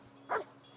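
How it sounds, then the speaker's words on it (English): A dog in the video game Kingdom Come: Deliverance lets out a single short bark, close and clear over a quiet background hum. "Dude, what are you barking at?"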